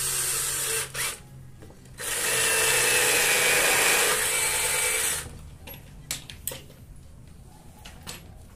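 A power drill drives a screw into wood on a homemade workbench, with a short whir, then a sustained three-second run, followed by quieter handling knocks and clicks.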